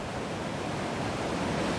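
Water pours steadily over a weir on the River Thames near Henley, a broad, continuous rushing roar with no pauses, heard alone from close by.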